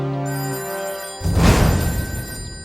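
Mobile phone ringing with an incoming call during a tense scene in a Telugu action comedy film, a clear tonal ring for about a second, then a burst of dramatic noise that fades away.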